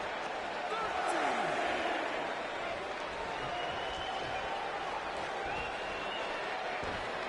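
A wrestling arena crowd in Los Angeles roars in a broad, sustained wash of cheering that swells slightly early on and stays steady and distant throughout.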